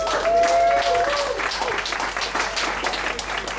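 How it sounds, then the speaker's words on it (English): Crowd applause at a PechaKucha night in Bali, a full burst of many hands clapping that eases slightly over a few seconds, with voices and a whoop mixed in over it. "Just to remember, always clap"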